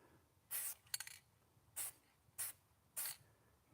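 A spray paint can hisses in five short bursts against a wall, each about a quarter-second, spaced unevenly with quiet gaps between, fairly close and with no talk.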